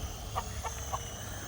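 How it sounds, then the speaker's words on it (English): An unhappy hen on a farmstead lets out three short soft clucks, spaced about a quarter second apart, over a steady low hum. "I got a hen here who's not happy."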